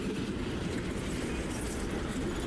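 A train rumbles past on a mountain railway at Arthur's Pass, New Zealand, a continuous loud roar with rolling wheel noise and no voices.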